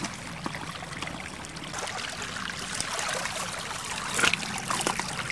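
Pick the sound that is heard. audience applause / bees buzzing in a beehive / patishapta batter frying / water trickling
water trickling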